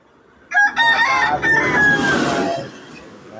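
Chickens clucking and a rooster crowing nearby, several overlapping calls in a short burst, loud and close with no talking.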